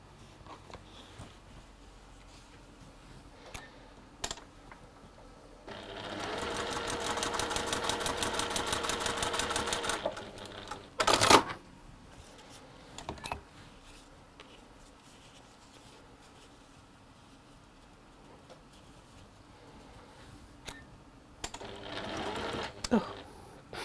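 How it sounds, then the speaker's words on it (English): A home sewing machine stitching fabric pieces together, a fast, even mechanical whirr in one long close burst and a shorter later run, with handling clicks and knocks between. "I'm going to sew these to either side of that middle square"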